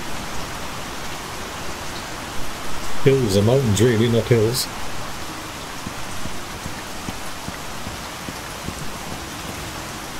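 Steady rain falls during a storm in the survival video game Icarus, a continuous hiss of rain on surfaces lasting throughout, with someone briefly talking over it partway through.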